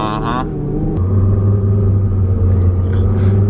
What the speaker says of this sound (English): Oh, I love those turbos. Even they're not even spooling it. You just hear them like ready to go.